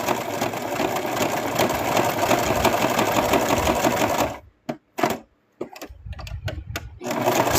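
A sewing machine stitches plush fabric in a fast, loud, continuous rattle, then stops and restarts in short bursts with brief pauses between.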